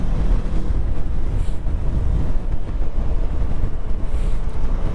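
Loud, steady wind rush buffets the microphone throughout while riding a 2023 Kawasaki Versys 650 motorcycle, a dense low roar at speed, with no voices.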